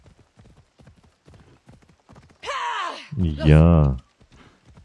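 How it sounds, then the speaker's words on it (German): Horse hooves clip-clopping in a steady walking rhythm while riding in the video game Assassin's Creed Odyssey, with a loud horse neigh and snort in the middle and someone talking briefly. "Da können wir auch jetzt mal ein bisschen reiten."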